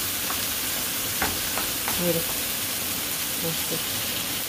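Chayotes frying with onion and tomato crackle and sizzle in a pan while a spoon stirs with light scrapes, and someone speaks briefly over the cooking.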